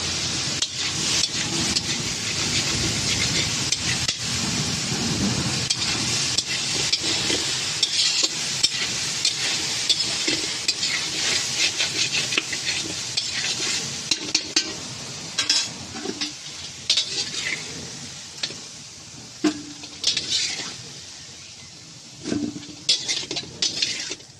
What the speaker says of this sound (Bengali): সোয়াবিনটা আমার ভাজা ভাজা হয়ে গেছে, ওটাকে তুলে নেব।